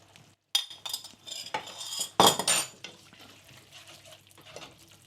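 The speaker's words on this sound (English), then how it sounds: "I'm going to add this to our mixture and then give it a good stir." A cold water mixture being stirred into a homemade bolognese sauce, with scraping spoon strokes against the pan and a few sharper clinks mid-way, close and fairly quiet, no talking.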